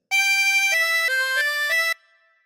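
A harmonica plays a phrase of Hey Diddle Diddle as a smooth run of about five connected notes stepping in pitch. The playing is clear, close and solo, ending abruptly.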